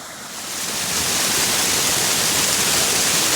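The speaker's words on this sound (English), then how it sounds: "Now we are descending into what I call the waterfall section of Coyote Gulch." A waterfall in Coyote Gulch, a desert canyon, pours as a loud, steady broadband roar that swells slightly at the start and then holds constant, close by and with no voices.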